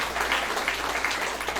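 Guests at a Christian wedding ceremony for Sanjita Pradhan and Karma Gurung clap together in a brief, steady round of applause, moderately loud and without talk.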